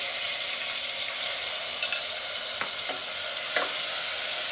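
Ginger garlic paste sizzles steadily in hot oil in a pan for mutton pulao, with a few sharp spatula scrapes and stirs standing out over the continuous close frying hiss.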